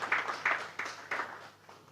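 An audience at a Nigerian public-private partnership forum gives the Governor a brief round of applause, a handful of distinct swells of clapping that fade out within a couple of seconds.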